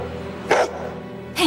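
Two short, sharp dog barks ring out about a second apart, close and loud against a quiet indoor background.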